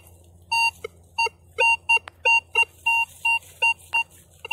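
Repeated bright electronic squeals from a metal detector sweeping over a buried target in a pine forest, coming as a dozen short, evenly spaced tone bursts, loud and close, with a faint steady hum underneath.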